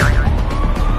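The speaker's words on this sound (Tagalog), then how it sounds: "Paparating na yung ambulansya para dalhin kayo sa COVID facility" An ambulance siren wails steadily and loudly, its rising and falling tone running through the whole short stretch over a dense low rumble.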